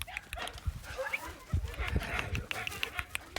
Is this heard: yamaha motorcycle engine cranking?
no